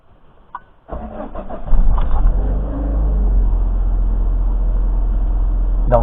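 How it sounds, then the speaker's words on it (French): A car running on ethanol without a conversion kit starts from cold: a brief starter crank, then the engine catches and settles into a steady, close idle rumble. "je vais démarrer la voiture"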